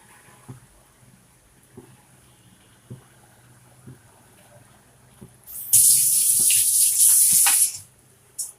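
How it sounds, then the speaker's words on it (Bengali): Water pours steadily for about two seconds into a cooking pot with fish, loud and close, between soft intermittent knocks and clatter. "পানি মাছ দুইটি একসাথে দিয়ে দিলাম"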